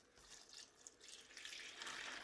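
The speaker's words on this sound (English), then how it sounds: "What I'm going to do is mix in my water" Water runs faintly into kitty litter in a container for mushroom growing, a soft steady splashing pour that grows a little louder toward the end.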